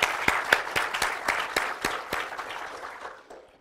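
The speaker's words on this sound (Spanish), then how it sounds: "pero también le enviamos un aplauso." Audience at a children's drawing and painting contest award ceremony gives a brief round of applause: distinct, rhythmic claps over a clatter that thins and fades away within a few seconds.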